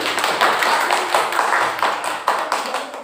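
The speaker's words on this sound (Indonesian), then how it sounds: "tepuk tangan dulu untuk kelompok 6" Classroom applause for group 6 as students come forward, a steady patter of many hands clapping at close range, filling the room without pause.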